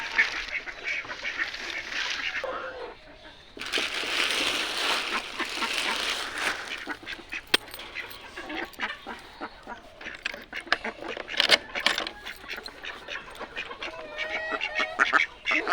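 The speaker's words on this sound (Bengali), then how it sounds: "হাঁসগুলোরও ছেড়ে দিলাম, আজকে হাঁসে ডিম দেয়নি।" Domestic ducks on a rural village homestead quack in a lively, continuous chorus of overlapping calls, fairly close and steady throughout, with bursts of louder honking calls mixed in.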